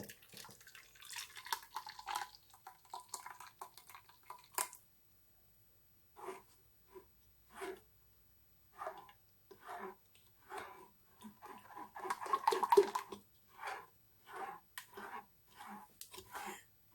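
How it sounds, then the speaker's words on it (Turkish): Juice made from peach peels is poured through a kitchen strainer, giving quiet, intermittent trickles and small taps that come in short separate bursts with pauses of silence between them. "Her ihtimale karşı tortuları kalmasın diye süzgeçten geçirelim meyve suyumuzu."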